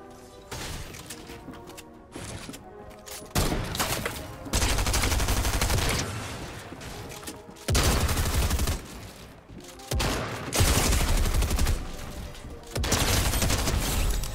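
Rapid SMG gunfire rattles out in a first-person shooter video game, with repeated loud automatic bursts separated by short pauses, mixed with clanking mechanical effects and impacts.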